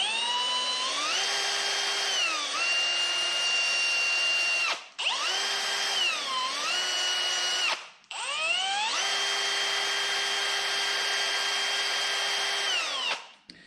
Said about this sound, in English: Quick little touch with the drill.